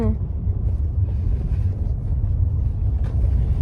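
Steady low rumble of a car being driven on the road for a road trip, with wind buffeting the microphone and continuous engine and tyre noise throughout.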